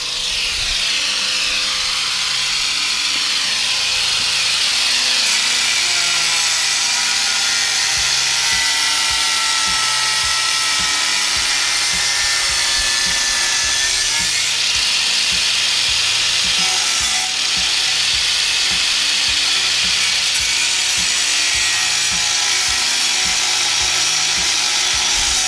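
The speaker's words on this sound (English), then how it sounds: "we found a solution for the exhaust tip not sitting in the, you know, the bumper trim properly, and that is Ed sawing it" A Japspeed cat-back exhaust tip on a Civic Type R is cut with a saw, giving a continuous harsh, high-pitched grinding that runs steadily and loud throughout with no pauses.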